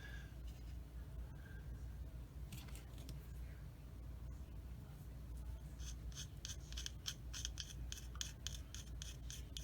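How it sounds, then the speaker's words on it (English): A scraper works over plastic parts of a 1/72 Academy Ju 87G Stuka model kit, soft close scratching strokes, faint at first and then a run of quick rasping passes near the end. "I'm going to use a scraper on here first."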